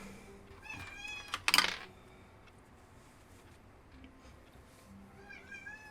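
A loud house cat being let in through a door meows repeatedly in drawn-out, wavering calls. A bright burst rises above the quieter cries, and a person speaks softly nearby.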